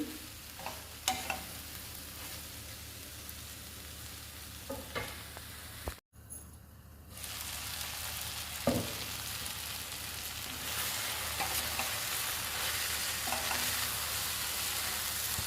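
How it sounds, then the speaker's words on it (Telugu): Coriander leaves sizzling in a pan while a spoon stirs them, a continuous soft fry with scattered scraping clicks, a brief dropout midway, then the sizzle rising slightly louder. "ఇప్పుడు కొత్తిమీర కూడా ఫ్రై అవ్వాలి కదా, 1 మినిట్."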